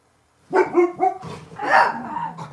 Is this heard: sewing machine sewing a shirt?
no